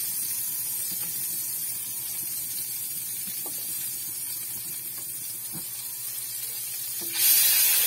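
Chopped onion dropped into hot margarine in a cooking pan, giving a steady soft hiss and sizzle with a few light clinks, swelling into a louder, brighter sizzle at the end.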